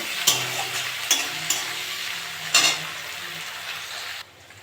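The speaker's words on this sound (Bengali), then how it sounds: "আমি চিংড়ি মাছগুলো দিয়ে দেবো, দিয়ে ভেজে নেবো।" Prawns fry with onion in a hot pan, giving a continuous close sizzle broken by a few sharp stirring scrapes and knocks before the sound drops away at the end.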